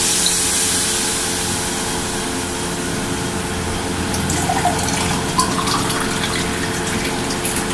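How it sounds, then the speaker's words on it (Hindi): Water pours into a pan of frying chicken haleem masala, a steady close gushing and sizzling hiss that lasts throughout without speech. "आप इसमें आपने पानी ऐड करना है।"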